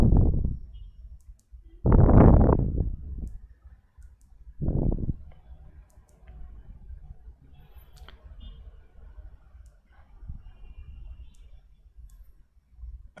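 A computer mouse clicks while inventory software is used, giving small sharp clicks beneath a few louder thumps and soft background noise, with no talking.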